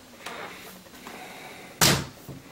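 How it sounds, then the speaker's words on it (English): Glass cabinet doors in a house are handled with faint soft taps, then one sharp, loud thunk as a door swings open or shuts, followed by a quieter knock. "These glass doors open really nicely"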